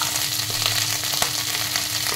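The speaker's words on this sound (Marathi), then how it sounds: "आता घोसावळं अगदी 1 मिनिट आपण आहे ना ह्याच्यात परतून घेऊया" Chopped sponge gourd (ghosavala) sautéing in a pan for a green chutney, a steady close sizzle and crackle with occasional stirring scrapes throughout, no talk.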